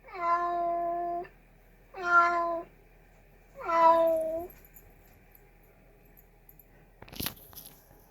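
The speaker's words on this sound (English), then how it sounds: "Hey Google, what does a cat sound like?" A cat meows three times, each a drawn-out, even call with a short gap between, played through a smart speaker in a quiet room. A brief sharp clatter follows near the end.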